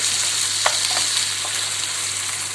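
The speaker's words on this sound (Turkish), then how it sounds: "4-5 dakika bir karıştırarak pişiriyoruz" Börek filling fries in a pan while being stirred, a steady close sizzle with a few soft scraping stirs near the start and no talking.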